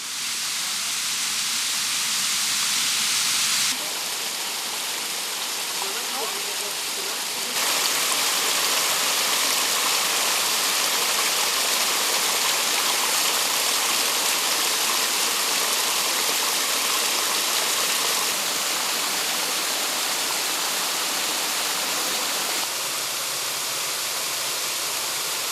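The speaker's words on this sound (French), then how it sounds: "Seules les truites arrivent à remonter cette cascade." River waterfall cascade that only trout can climb, a loud, continuous hiss and rush of falling water with no voices, its level shifting abruptly a few times as if heard from changing positions.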